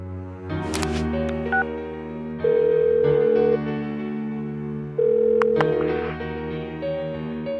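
A cell phone call rings in the video game Persona 4 Golden as a melodic electronic ringtone that plays twice in a repeating pattern over a sustained musical backdrop.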